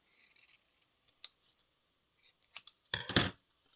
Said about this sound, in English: I'm just going to cut right here.